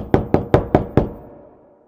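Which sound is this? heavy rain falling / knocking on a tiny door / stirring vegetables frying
knocking on a tiny door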